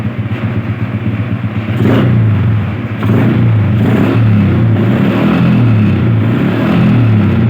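A Honda Kharisma motorcycle engine runs close by at a steady idle, with small throttle blips raising the revs briefly and a continuous mechanical clatter underneath.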